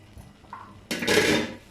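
A cooking pot holding sweet vermicelli (meethi seviyan) has its lid lifted after low-heat steaming, giving a brief metallic clatter and scrape near the end, preceded by faint kitchen sounds.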